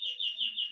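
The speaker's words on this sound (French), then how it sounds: "on entend le son des oiseaux" A bird chirps outdoors in spring in a brief, faint, high, steady call lasting under a second.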